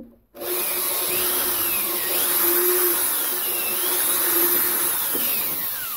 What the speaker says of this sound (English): with the 2 millimeter drill bit right through the bulwark, so now we'll just do the starboard side.